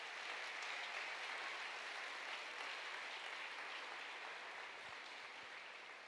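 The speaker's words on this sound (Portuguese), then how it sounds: "Você pode aplaudir ao Senhor?" A church congregation at a family conference applauds. The clapping is steady and continuous, fairly faint and roomy, with no voices standing out.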